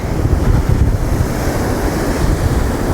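Loud, continuous surf of ocean waves crashing and rolling, mixed with gusty wind buffeting the microphone, no voices, at a beach in El Quseir, Egypt, too rough for snorkelling.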